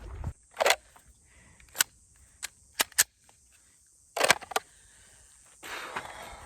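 Pistol shots crack at an outdoor firing range, a series of sharp, fairly distant reports spaced irregularly over a few seconds, with faint handling noise between them.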